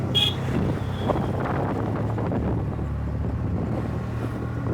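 A small boat runs slowly across the water, its engine giving a steady low drone with wind rushing over the microphone the whole time.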